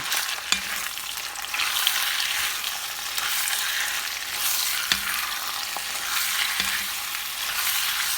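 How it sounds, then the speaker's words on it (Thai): Ground shrimp, a full kilogram, stir-fried in a pan: a steady loud sizzle with occasional scrapes and taps of the utensil against the pan, no talking. "ผัดผัดให้มันหอมหอมค่ะ"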